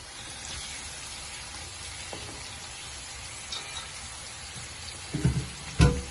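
Mutton trotters (paye) frying in a thick masala, a steady low sizzle with a few louder spits and stirring clatters toward the end, close and without talk.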